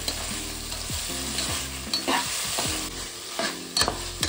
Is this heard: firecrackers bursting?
no